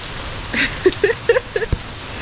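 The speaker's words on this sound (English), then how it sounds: "the sky is dark and rainy" Rain falls at a diving resort under a dark sky, a continuous soft patter of drops beneath a short run of brief, high chirping calls that rise above the wash.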